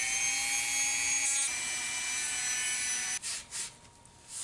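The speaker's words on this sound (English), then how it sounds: "The Dremel first and just kind of like get most of it off" A Dremel rotary tool grinds down a piece of wood: a close, loud, steady motor whine with an abrasive rasp that cuts out near the end, leaving a few short scraping bursts.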